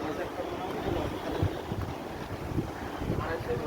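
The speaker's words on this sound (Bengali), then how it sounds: "আজকে ওয়েদারটা দেখো, একদম হাওয়া" Steady gusting wind buffets the microphone with a dense low rumble and hiss throughout, loud and continuous with no other clear sounds.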